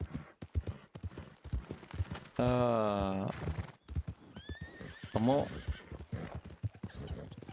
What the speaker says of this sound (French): Pourquoi au moment où je dis ça, ma monture perd un peu pied?